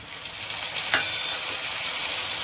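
Tomatoes tipped into a pan of well-fried onions set off a steady, close sizzle that holds at an even level, with one brief louder burst as they land.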